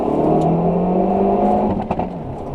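A Hyundai Veloster N hot hatch on the move in Germany, its engine and exhaust giving a steady, loud droning hum with a rising note, plus a few sharp pops and crackles toward the end; no talking.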